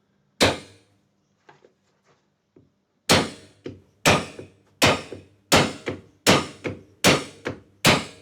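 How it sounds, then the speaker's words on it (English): Parts are hammered into a custom guitar at a luthier's bench: one sharp tap, a few faint ticks, then a steady run of seven loud, evenly spaced hammer blows, close and alone. "They have to be hammered in, tapped in like old school."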